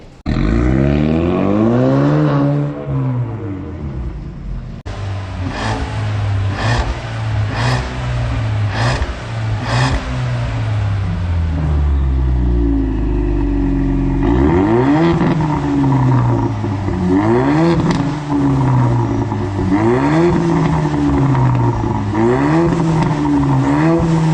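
Ford Mustang fitted with a Euro Arts exhaust, loud and close, revving and accelerating hard through rising and falling gears, with a deep roaring burble and repeated climbing engine pitches.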